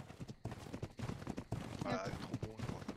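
Horse hooves clip-clop in the ARK video game world, a fast, fairly soft rhythmic patter running under excited chatter from players throughout.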